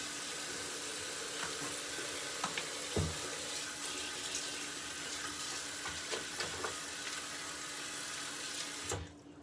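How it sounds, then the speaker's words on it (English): Water runs steadily from a sink tap during handwashing, a continuous close hiss and splash broken by a few small clunks and knocks, then the flow cuts off near the end. "Let me just wash my hands."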